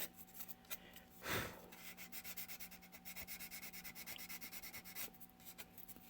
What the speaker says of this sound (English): parallel sanding, basically like get it to even up.